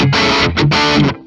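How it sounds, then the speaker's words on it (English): A loud, distorted riff on a 2014 Gibson SG Standard electric guitar: two thick chord bursts with a brief gap between them, up close, ending as the last chord cuts off. "It's always my go-to riff to test if a guitar gets muddy"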